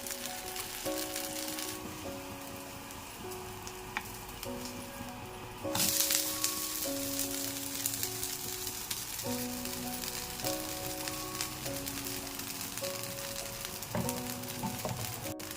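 Dosa batter made with upma rava sizzles steadily in oil on a hot pan, a continuous frying hiss that swells louder midway, with faint tonal background music running underneath and no talk.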